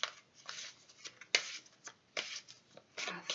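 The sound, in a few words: shuffling tarot cards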